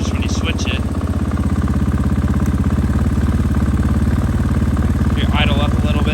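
A motorcycle engine idles steadily right after a new ECU install, a close, continuous low throbbing with a little mechanical clatter that holds an even pitch for the whole stretch.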